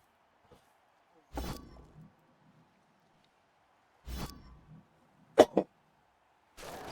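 Three separate bursts of close, dry coughing in a quiet room, spaced a few seconds apart, plus a couple of short sharp clicks between the second and third.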